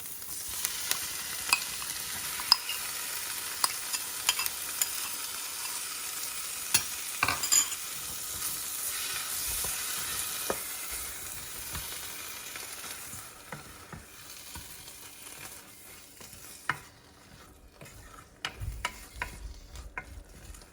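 Horse gram frying with golden, softened onions in a pan gives a soft steady sizzle, broken by sharp ticks and scrapes of a spoon stirring, close by and fairly quiet, easing off near the end.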